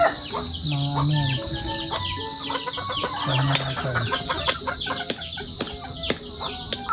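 Chickens cluck repeatedly close by, short throaty calls overlapping in an irregular rhythm, with a faint voice in the background.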